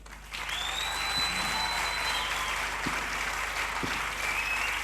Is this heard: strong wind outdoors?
no